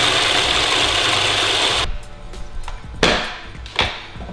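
A food processor grinds sunflower seeds into a coarse green pesto, a loud, dense, steady whir for about two seconds that cuts off abruptly, followed by a few quieter clatters and knocks.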